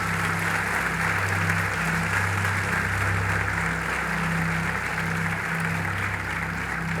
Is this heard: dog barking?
no